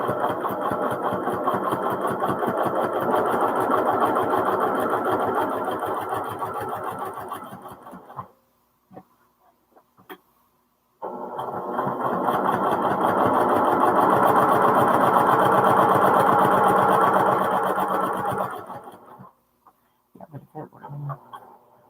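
Sewing machine quilting a hexagon placemat, running steadily and loud for about eight seconds, pausing with a few faint clicks, then running again for another seven seconds before stopping.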